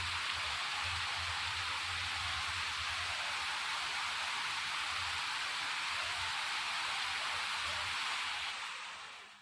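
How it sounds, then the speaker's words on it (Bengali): Heavy rain falls outside in a steady, even hiss with a low hum beneath it, continuous throughout and fading at the very end, with no voices. "বাহিরে অনেক বৃষ্টি হচ্ছে"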